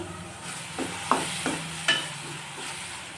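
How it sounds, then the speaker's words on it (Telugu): Onions fry in a pan on the stove, giving a steady, soft sizzle with several light clinks and scrapes of stirring, moderately close and without talk. "ఇక్కడైతే ఆనియన్ అయితే ఏగుతూ ఉన్నాయి"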